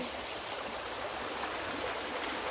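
A jungle river flows steadily with a continuous close rushing and trickling wash of water, with no voices present.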